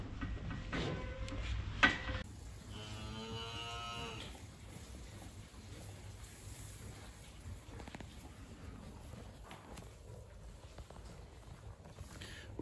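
A Dexter cow lets out a loud, drawn-out moo up close, a single call over a steady outdoor wind-like hiss and faint farmyard background noise.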